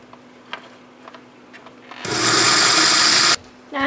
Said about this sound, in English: I'm just going to stick it into the blender.